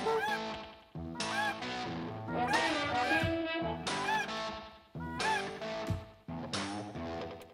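Snow geese call overhead above a dry field during a waterfowl hunt, with many loud, overlapping honks and yelps that run nearly continuously in bursts, close and strong.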